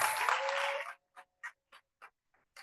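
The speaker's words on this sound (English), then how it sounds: "can we just do a quick round of applause of all of this Black excellence?" Audience applause at a talk on the path to an HBCU, a dense burst of clapping that cuts off after about a second, leaving a few scattered lone claps.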